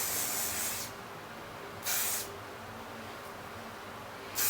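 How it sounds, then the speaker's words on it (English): Hairspray hisses from an aerosol can onto hair for 80s-style Halloween makeup, a long close spray followed by two short bursts, with no talking. "And I'm going to use some hairspray too."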